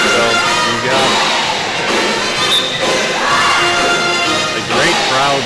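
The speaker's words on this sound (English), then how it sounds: "A great crowd here at Barnell Road Gymnasium" A loud crowd cheers and shouts continuously at a volleyball match in a gymnasium, with whoops and swelling bursts of noise throughout.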